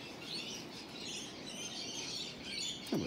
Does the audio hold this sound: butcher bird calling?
yes